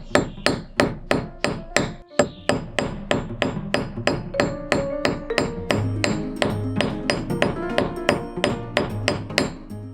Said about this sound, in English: I've got my anvil and I got my hammer and the wire